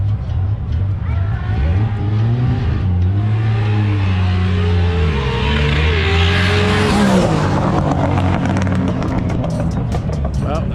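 Roll racing car with a newly fitted turbo accelerating hard at a Sydney roll racing event: a loud, continuous engine roar climbs in pitch through the gears as it passes, with a rough, crackling edge toward the end.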